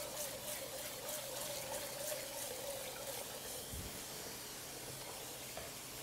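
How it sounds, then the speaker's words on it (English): Cold tap water runs steadily into a pot of cooked beans, a continuous hissing splash that stays fairly quiet and even the whole time, with no voices. "So I'm just gently gonna cool these down by running cold water"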